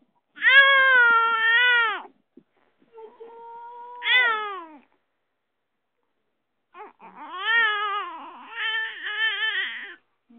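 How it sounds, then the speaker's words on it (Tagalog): A cat gives several long, drawn-out meows close by, separated by pauses, the last ones wavering and plaintive. "Parang pusa, ang pusa."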